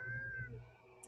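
A cat gives one drawn-out meow, close and fairly clear, tapering off after about half a second, with a faint click at the very end.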